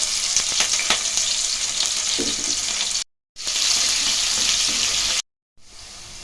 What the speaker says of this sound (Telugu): ఆయిల్ వేడయ్యాక ఒక స్పూన్ జీలకర్ర, ఒక స్పూన్ ఆవాలు, కట్ చేసి పెట్టుకున్న ఆనియన్, పచ్చిమిర్చి వేసుకొని కలర్ వచ్చేంత వరకు వేపుకుందాం